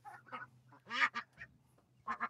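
A female white domestic duck quacks several times in short raspy bursts, near and fairly faint over a low background hum.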